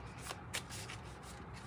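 Tarot cards are shuffled in quick soft bursts, a close, quiet riffling and sliding of card stock repeating in rapid succession.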